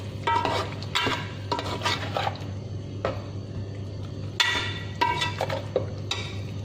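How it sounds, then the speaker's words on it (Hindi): Mutton is stirred and fried in spice masala for a bhindi gosht curry, with repeated spoon scrapes and clinks against the pot over a low sizzle and a steady background hum. "अब हम 1 मिनट मसाले के अंदर गोश्त को अच्छी तरह फ्राई करेंगे"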